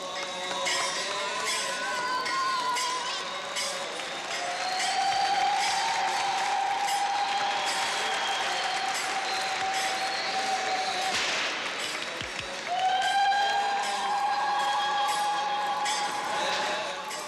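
Applause and high trilling ululation from a crowd greeting the Pope at a Holy Week gathering in Egypt, a dense sustained roar with wavering shrill cries rising above it throughout.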